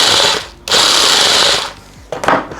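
A Yiking 1100W rotary hammer runs in loud, steady bursts of harsh whirring and rattling. It cuts out briefly, restarts, then stops before a short final blip, close to the listener and with no talking.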